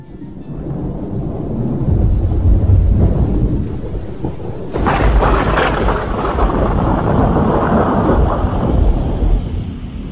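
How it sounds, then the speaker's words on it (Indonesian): Heavy rain pours loudly and continuously with rumbling thunder, a dense roar that swells midway and stays intense to the end. "hujan turun dengan sangat lebatnya"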